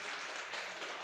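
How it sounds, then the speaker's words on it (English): A conference audience at ETH Taipei 2024 applauds a speaker, a brief, fairly faint wash of steady clapping with no talk over it. "Let's give a round of applause."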